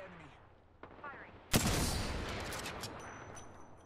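Gunfire in the battle royale game Apex Legends: after a few faint game sounds, a sharp loud shot breaks out, then a ringing, rattling tail of further fire and impacts that slowly fades.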